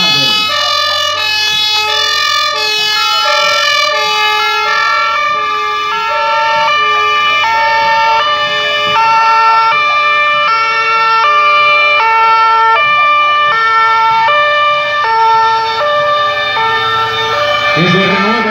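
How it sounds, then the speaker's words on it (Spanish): Fire engine sirens wailing loudly and continuously in a rising and falling pattern, several overlapping, close by, with faint crowd noise beneath. "Hoy nuestros bomberos hacen ondular sus sirenas."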